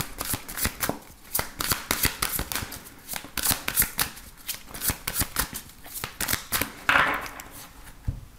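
Tarot cards being shuffled by hand, a steady run of crisp riffling and slapping bursts close to the mic, soft and continuous throughout with no talk.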